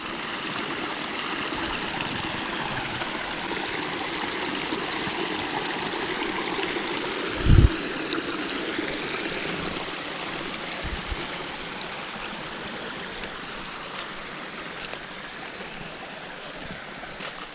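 A woodland stream cascading down many little rocky steps and tiny waterfalls, a steady close rushing and trickling flow with one brief knock partway through and no voices.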